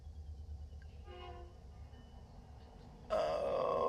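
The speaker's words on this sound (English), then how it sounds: "Oh, got another train coming in." A train rolls past a parked Winnebago Micro Minnie FLX camper, with a faint tonal horn blast early on and then a sudden loud burst of rail noise close by, no talking.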